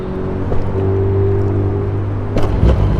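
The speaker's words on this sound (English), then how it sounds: "Bump on it, and then you get the bike going." A motorcycle engine catches and fires up during a bump start, a steady low idling rumble with a couple of louder bursts of revving near the end, close by with no talking.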